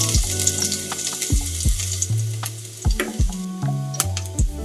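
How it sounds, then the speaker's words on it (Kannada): Cumin and mustard seeds sizzling in hot oil for a radish leaves stir-fry, a loud continuous crackle layered with ringing metallic clangs and scrapes from the pan. "ಇವಾಗ ಕಾದಿರೋ ಎಣ್ಣೆಗೆ ಜೀರಿಗೆ ಮತ್ತು ಸಾಸಿವೆ ಹಾಕ್ತಿದ್ದೀನಿ"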